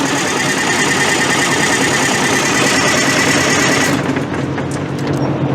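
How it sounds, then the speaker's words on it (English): A car engine cranks on its starter during a starter current draw test, a loud, continuous, rapidly pulsing churn that runs steadily for about four seconds and then cuts off. "I'm gonna have my assistant crank over the engine real quick"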